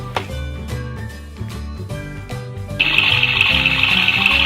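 Water pours into a toy washing machine, starting as a steady stream under some clattering handling and swelling into a louder rushing fill in the last second and a half, close by.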